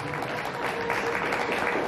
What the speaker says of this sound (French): Est-ce qu'on peut applaudir encore très très fort le témoignage de M.